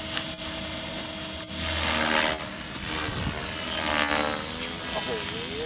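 Electric T-Rex 550E radio-controlled helicopter spooling up at an outdoor flying event, a whining rotor and motor tone rising and falling in pitch amid wind and background noise, with voices talking nearby.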